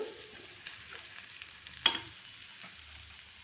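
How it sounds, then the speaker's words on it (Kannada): Washed moong dal and broken wheat roasting in oil in a cooker pot, a soft, steady sizzle with one sharp scrape of stirring partway through. "ಈ ತೊಳೆದಿರೋ ಹೆಸರುಬೇಳೆ, ಗೋಧಿ ನುಚ್ಚನ್ನ ಹುರ್ಕೊಂಬಿಡೋಣ"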